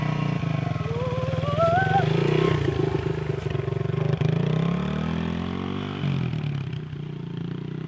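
A budget pit bike's small single-cylinder engine idles and revs close by, a loud, steady buzzing drone with some rising and falling revs and mechanical clatter, with voices heard over the engine.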